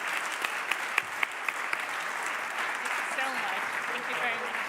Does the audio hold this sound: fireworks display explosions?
no